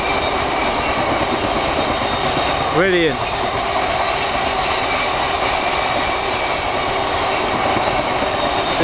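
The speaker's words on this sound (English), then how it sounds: "We have the gas condensate tank train." A long freight train of gas condensate tank wagons rumbles steadily past at close range at Needham Market station, with a brief rising voice-like whoop partway through and a short spoken word over the noise.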